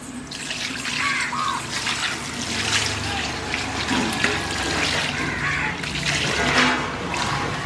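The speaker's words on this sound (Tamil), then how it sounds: "நம்ம ஃபர்ஸ்ட் மோர் ஆட் பண்ணிக்கிறோங்க" Buttermilk pours steadily into a bowl of chicken pieces being marinated for KFC-style fried chicken, giving a continuous close, splashy liquid gush that lasts several seconds.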